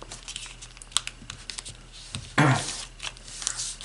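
Origami paper is lifted and folded along a crease, brief crinkles and taps building to a louder crisp rustle of the sheet being pressed flat, close and alone.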